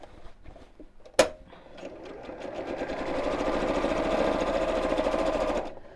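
A sewing machine stitches around an appliqué Christmas tree on a cushion cover. A sharp click comes first, then a steady rapid mechanical chatter of stitching runs for several seconds and stops, close up, with no talking.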